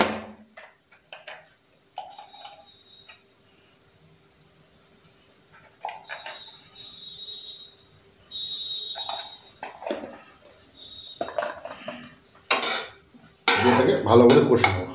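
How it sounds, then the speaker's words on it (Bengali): A spatula knocks and scrapes against a pan while spice masala with chili powder cooks down, in sporadic clinks and scrapes with quiet gaps, then a louder burst of sizzle and clatter at the end. "এটাকে ভালো করে কষে নেবো মশলাটাকে।"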